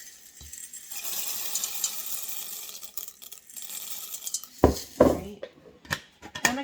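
Dry elbow macaroni is tipped into a cooking pot, starting as light rustling before two loud, hard clattering rattles of pasta hitting the pot near the end, close by.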